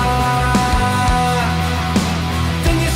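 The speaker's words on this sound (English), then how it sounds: "It's very 80s, kind of new wavy stuff, but very loud, and it sounds like this." Loud 1980s new wave song with synths and a steady driving beat, dense and continuous throughout, no talking over it.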